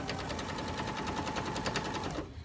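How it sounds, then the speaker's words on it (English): A sewing machine stitching quilt fabric strips, its needle running in a fast, even mechanical rhythm close by for about two seconds before stopping abruptly. "And I'm just going to continue to sew."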